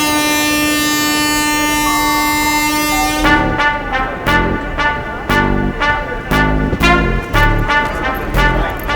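A train bound for Thanjavur sounds a long, loud horn blast, then gives way to a steady, rhythmic run of heavy clattering beats as it passes close by.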